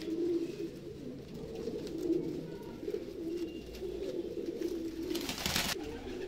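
Madrasi pigeons, double-eyelid birds with deep-set eyes kept for sale in Faridabad, coo steadily in a low rolling murmur close by, with a brief burst of flapping or rustling near the end.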